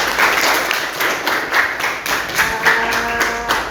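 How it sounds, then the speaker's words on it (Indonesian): A classroom of students claps together, a dense run of hand claps with rhythmic pulses, fairly close and steady throughout. "kita tepuk tangan untuk kalian semua"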